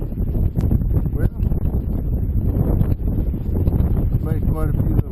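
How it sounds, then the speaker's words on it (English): Strong wind roars across the mic on a fishing pier at Mustang Island State Park in February, a steady loud rushing buffet with gusty rumble throughout. "And man, it's just been blowing. I mean, blowing hard"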